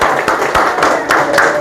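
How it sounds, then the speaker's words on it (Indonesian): Students in a classroom clap for a group, several short bursts of applause over about a second and a half, fairly loud and close. "kasih tepuk untuk kelompok 3"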